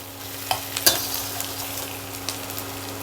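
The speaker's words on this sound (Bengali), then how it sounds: "পেঁয়াজটা একটু ভাজা হয়েছে" Chopped onions sizzle steadily in a hot pan, with a few sharp clinks and scrapes from stirring standing out over the constant frying hiss.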